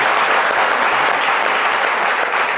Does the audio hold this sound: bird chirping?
no